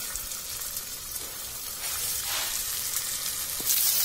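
Marinated prawns sizzle on a hot dosa griddle, a continuous crackling hiss close by that swells slightly partway through and stays steady to the end, with no talking.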